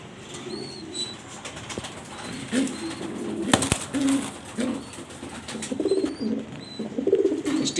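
Bloodline pigeons in a breeder's loft coo in repeated low rolling phrases, close and distinct, with occasional wing flaps, a sharp clack and faint chirps overhead.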